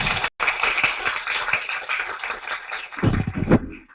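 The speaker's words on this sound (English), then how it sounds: "Let's give him a round of applause." Conference attendees at a Hong Kong mobile developer event clap for a presenter after an app pitch. The applause is a brisk, moderately loud patter with a brief dropout near the start, and it thins toward the end.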